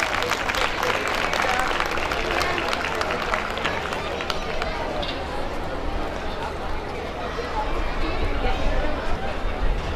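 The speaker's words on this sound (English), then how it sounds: "Please give them a huge round of applause." Applause for award winners at a school annual day celebration, a dense, steady wash of clapping across the whole stretch with crowd chatter mixed in.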